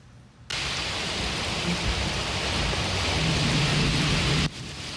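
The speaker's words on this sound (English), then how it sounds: "Oh, you can hear the rain, a little thunder there." Heavy rain pours down in a loud, dense hiss with a low rumble of thunder underneath, starting abruptly and cutting off after a few seconds.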